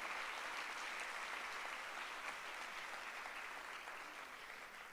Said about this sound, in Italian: fare un secondo applauso a Carlo Verdone